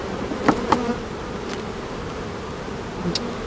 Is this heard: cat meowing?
no